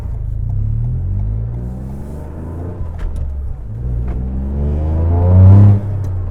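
A Toyota GR Yaris fitted with a Coolerworx short shifter works through its gears, the engine note rising and falling in a steady, close rumble with a louder rev swell near the end.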